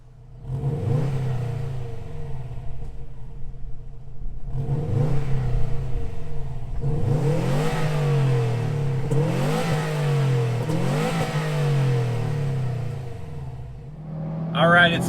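A Subaru WRX STI S209 boxer engine starts and is revved repeatedly, several rising blips over a steady idle, loud and close, ending with a sharp burst at the finish.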